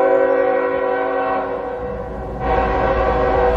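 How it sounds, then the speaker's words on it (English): A big train passing through Kentucky sounds its horn loudly and close, a sustained multi-tone blast with the rumble of the rail cars swelling underneath, no voices. "Oh yeah, big train looking coming through here."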